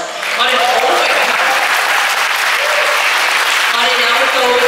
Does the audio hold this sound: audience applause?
yes